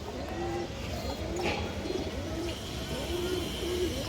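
Pigeons in a loft keep up a steady run of repeated low coos, about every half second, close and clear over constant background noise.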